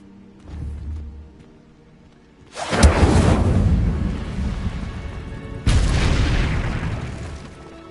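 Incendio fire spell cast in Hogwarts Legacy erupts as two loud, booming fiery blasts with roaring whoosh tails. A softer low rumble comes first, the first blast follows partway through, and the second hits near the end.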